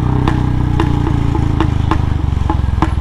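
A Royal Enfield Bullet motorcycle thuds loudly and close at a steady beat, its exhaust backfiring in sharp, repeated pops spaced roughly evenly through the running engine.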